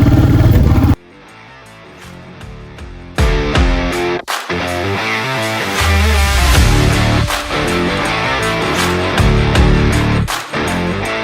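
Motorbike riding along a road in North Bengal hill country, its engine droning loud and steady after a brief quiet start, with rises and dips in tone as it accelerates and runs on.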